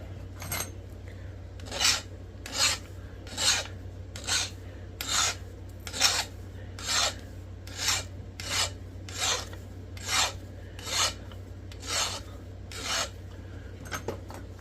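A hornstone flint preform's edge is abraded in a steady rhythm of about seventeen short, rasping strokes, close and evenly spaced, with a low hum underneath.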